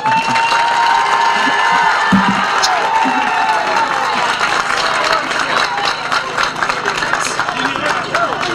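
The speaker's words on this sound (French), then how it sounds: "j'aimerais un tonnerre d'applaudissements pour ma mère" A large crowd at a stadium inauguration breaks into loud applause and cheering for a speaker's mother, with sustained clapping, whistles and shouts blending into a continuous roar for over eight seconds, voices mixed throughout.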